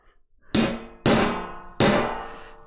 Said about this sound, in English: So all I'm doing is putting a mark in the metal.